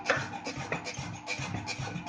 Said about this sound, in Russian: Вот так аккуратно сваривается шов.